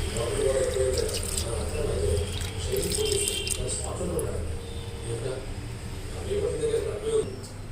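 Soaked matki beans, with a spoon of flattened rice added, are rinsed in water in a kitchen, making continuous sloshing and splashing with faint drips while a person talks over it.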